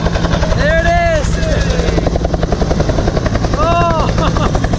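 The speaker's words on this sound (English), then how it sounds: "since we're about to get in the helicopter" A Vietnam-era helicopter runs close by at loud, steady volume, its rotor chopping in a continuous fast pulse with engine whine, while a voice is heard briefly over it.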